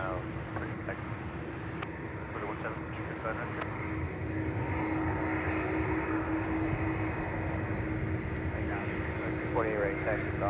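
An Airbus A321 arriving on runway 12 right at Minneapolis–St. Paul airport gives a steady, fairly loud broadband engine roar throughout, with people talking over it.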